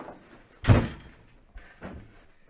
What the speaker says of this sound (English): Come in and close the door, Chris!